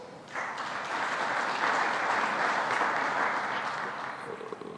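An audience at a diplomatic briefing in Nairobi breaks into steady applause, a dense clatter of clapping hands that rises quickly, holds for several seconds and tapers slightly, with no talk over it.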